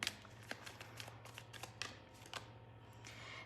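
Tarot cards shuffled by hand, a run of soft papery riffles and slaps repeating irregularly at close range over a low steady hum, with no talking.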